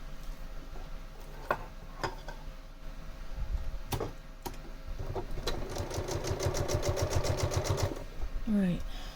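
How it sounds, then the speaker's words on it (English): Domestic sewing machine stitching the centre seam of a pinwheel quilt block, a fast steady run of needle strokes lasting a few seconds, close and fairly loud, with brief handling clicks before it. "now we're going to sew this center seam to put this pinwheel together"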